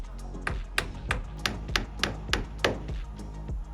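Hammer blows drive nails through a rubber sheet into a boat's subfloor, about a dozen sharp, close taps in a quick, fairly even rhythm.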